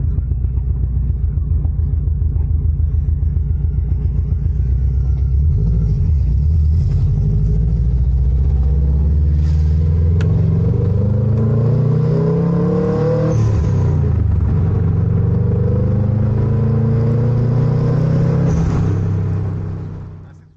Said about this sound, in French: là on fait un petit tour de la voiture rapide